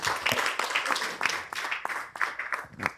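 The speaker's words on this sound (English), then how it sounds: "Ladies and gentlemen, may I request us to put our hands together for the powerful ladies that have spoken." A conference audience at a filmmakers summit applauds, a thin, uneven patter of hand claps from a modest crowd, swelling and easing over a few seconds.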